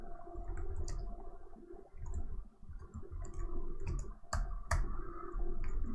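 Rapid computer keyboard typing clicks scattered through the clip, close and fairly quiet, with a few sharper isolated key strikes over a low steady room hum.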